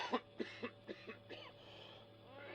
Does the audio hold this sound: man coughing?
yes